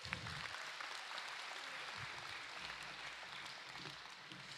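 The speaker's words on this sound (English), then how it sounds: "Please give these students a round of applause" Faint, distant applause from the audience at a secondary school awards and graduation ceremony, a soft continuous patter of clapping with no speech.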